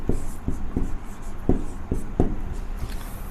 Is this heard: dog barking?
no